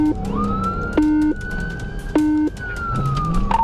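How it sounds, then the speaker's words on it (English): Police car siren wailing loud and close during a high-speed chase through residential streets, a steady rising wail broken twice by short yelping bursts, with engine rumble underneath. "officers activated lights and sirens"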